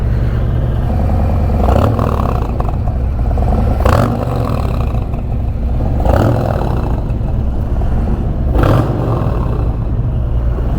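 Motorcycle fitted with a baffled Bassani Road Rage exhaust, heard as a loud, steady engine drone with a few swelling revs rising out of the continuous rumble.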